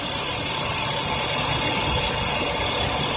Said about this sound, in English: I got the compressor to come on.